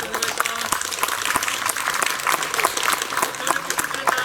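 An audience at a university aeronautical engineering open campus, at an engine-run demonstration, applauds with steady, dense clapping from a moderately close crowd that keeps going throughout with little variation in loudness.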